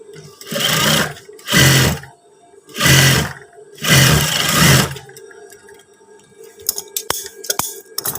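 Sewing machine sewing trousers, four loud close bursts of motor whirring and stitching, each about a second long with short pauses between, followed by quieter clicks and handling sounds.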